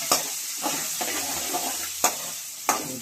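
Onions fry in a pan with dried red chillies, giving a continuous close sizzle broken by several sharp scraping stirs and clacks of a spoon, and no one speaking.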